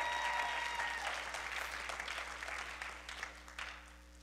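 Applause from a church congregation at a gathering with a visiting pastor, a steady wash of clapping that starts strong and slowly thins toward the end.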